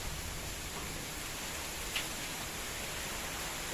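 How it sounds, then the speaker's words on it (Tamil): Heavy rain driven by strong wind during a storm beside coconut trees, a dense, steady hiss of rainfall and gusting air filling the whole stretch without letup. "சரியான மழை அடிக்குது. காற்றும் செம காற்று அடிக்குது."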